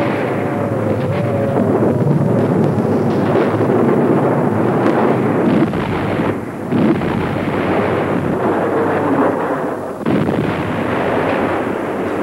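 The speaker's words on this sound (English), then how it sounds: "a German squadron of bombers accidentally drops its bomb loads on civilian targets in London" Bombs from a German squadron of bombers burst over civilian targets in London during a WWII night air raid, a continuous loud roar of overlapping explosions and rumbling blasts with no talking.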